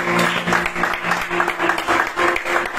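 A church congregation claps and applauds during a Sunday service, a steady dense roar of hands with rhythmic pulses, loud and close, with faint voices mixed in.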